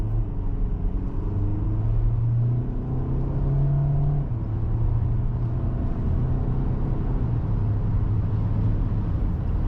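Kia Sorento 2023 2.2-litre turbo diesel CRDi with 8-speed DCT and AWD pulling under load, a steady low engine rumble with shifting drone tones rising and stepping as it accelerates, heard from inside the car with no talk.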